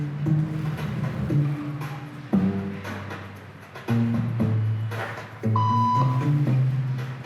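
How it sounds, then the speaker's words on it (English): Electronic beep tones sound in a waiting room during a social conformity experiment, several sustained tonal bursts spaced a second or two apart over a background of music and room noise. "Beep means stand up."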